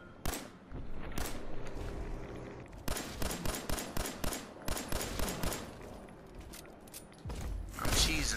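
Gunfire in the video game Fallout 4: repeated bursts of rapid automatic shots in clusters separated by short pauses, with mechanical clanks between them and a loud final burst near the end.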